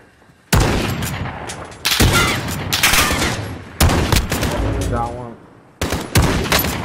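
Automated turret in the Warzone video game firing sustained, loud bursts of rapid gunfire, several long volleys separated by brief gaps.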